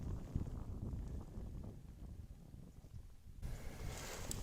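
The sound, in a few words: cold wind outdoors on a ridge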